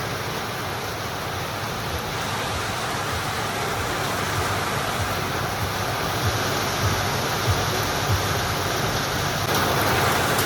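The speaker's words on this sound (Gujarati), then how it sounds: "મિત્રો વરસાદ બહુ જ આવે છે, ધોધમાર વરસાદ પડી રહ્યો છે" Heavy summer rain pours steadily in Ganeshvas, Vadnagar, a dense, constant hiss with no breaks and no voices.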